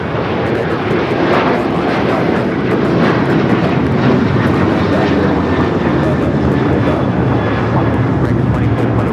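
American Airlines Boeing 737-800 taking off from LAX, a loud continuous broadband engine roar filling the whole span, close and powerful, with voices faintly underneath.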